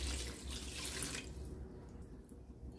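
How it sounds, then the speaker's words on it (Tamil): Water pours from a tap into a pot for ghee rice, a bright splashing gush that lasts about a second and then drops to quiet dripping and trickling. "தண்ணி ஆட் பண்ணிடலாம்."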